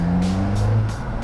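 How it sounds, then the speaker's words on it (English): A 2016 Alfa Romeo 4C Spider's loud exhaust, heard from inside, drones with a deep, steady engine hum and pulsing rasp, close and continuous. "the exhaust is loud"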